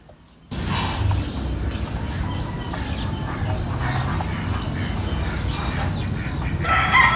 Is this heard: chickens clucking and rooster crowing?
yes